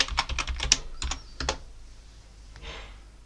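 A quick burst of typing on a computer keyboard as a password is entered, with rapid close clicks followed by a couple of firmer presses and then a near-silent pause.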